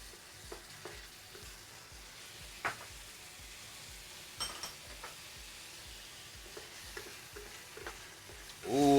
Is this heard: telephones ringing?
no